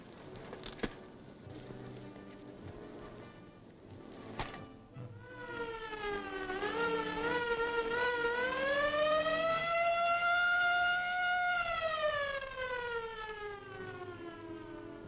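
Ambulance siren rising and falling in a steady electronic wail, loud and close, sweeping up from about five seconds in after a few sharp clicks and knocks in a quiet room.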